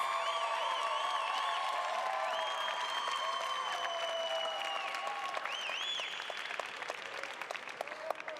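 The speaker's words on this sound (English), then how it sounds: "Please join me in a round of applause for the Master of Science in Public Policy and Management Data Analytics" Sustained applause and cheering from a graduation hooding and diploma ceremony crowd, honoring Master of Science in Public Policy and Management Data Analytics students, steady and full with scattered whoops and tonal calls over the clapping.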